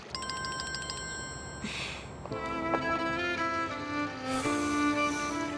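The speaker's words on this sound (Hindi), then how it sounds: "प्लीज फोन उठाओ" A phone rings with repeated electronic ringtone bursts, first a rapid trilling pattern, then a brief pause before a louder, richer melodic ring resumes and continues.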